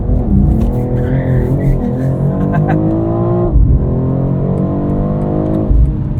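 A 2022 BMW X3 M Competition in M dynamic mode takes a hard right turn. The engine roars loud and close and the revs rise and fall, with tire noise under a voice talking from inside the cabin.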